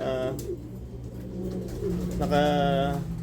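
Pigeons coo in low, rolling calls close by, with a second burst of cooing near the end over a soft background hum.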